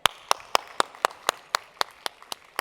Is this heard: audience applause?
yes